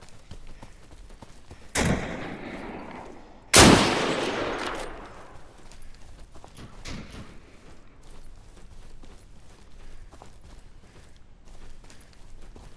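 Two sharp gunshots in the video game DeadSide, the second louder with a rumbling echo tail, then quieter background noise.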